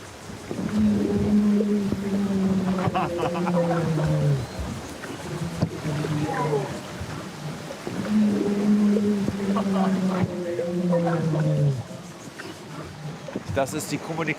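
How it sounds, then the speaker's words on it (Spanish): Deep, drawn-out moans and descending tonal calls of humpback whales repeat in long phrases, recorded underwater by hydrophone with a steady background hiss. "Así se comunican las ballenas, así se coordinan para cazar los arenques."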